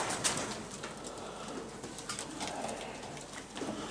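Blue bar stock pigeons, a breeding pair sitting on eggs, coo softly in a loft stockshed, with low murmuring calls spread over a steady background hum and no talk.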